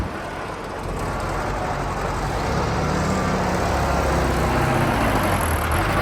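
A 1972 VW Super Beetle engine on the road pulls hard through its gears. It makes a loud, steady, close mechanical drone with road rumble that swells slightly as speed builds, and there is no talking.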